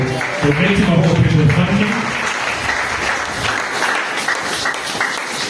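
A church congregation bursts into sustained applause during a Sunday Easter-themed thanksgiving service, many hands clapping loudly and steadily, swelling at first and then carrying on evenly throughout.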